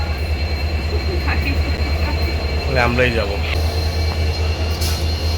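A passenger train running with mostly empty coaches, a steady low rumble and rolling rattle throughout, with a brief metallic squeal and people talking briefly over it.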